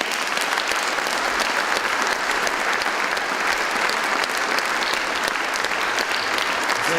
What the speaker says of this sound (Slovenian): ni treba ploskati, to je samo po sebi umevno